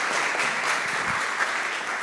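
Audience applause at a hackathon final-presentations event, a steady wash of many hands clapping at moderate level for a short stretch, with no voices standing out.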